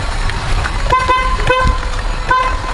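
Car horn honking near a pink Honda Civic on a street, several short toots sounding in quick succession over steady traffic noise.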